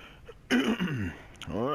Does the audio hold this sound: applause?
no